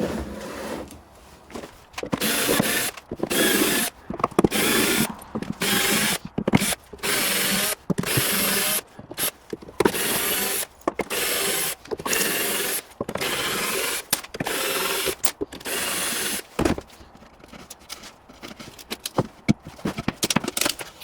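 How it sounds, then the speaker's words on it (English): A power drill unscrews screws from a panel in repeated loud, close whirring bursts separated by short pauses, with ratcheting and scraping between runs. "More unscrewing required."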